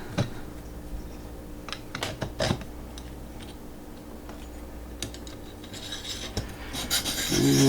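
A custom knife blade drawn across a Vipersharp sharpening system, giving a run of short scraping rasps and light clicks at an uneven pace, close and fairly quiet.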